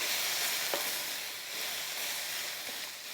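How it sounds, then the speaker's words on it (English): A quarter cup of chopped onions frying in a pan, giving a steady close sizzle and hiss throughout with no talking. "about quarter cup of chopped onions. Just going to let that cook through"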